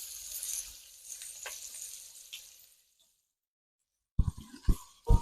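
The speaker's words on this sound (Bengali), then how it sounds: "পেঁয়াজটা ভেজে আমি দিয়ে দিই" Onions frying in oil as crisp birista for Hyderabadi chicken dum biryani give a steady hissing sizzle for about three seconds that fades into silence, followed by a few sharp low knocks near the end.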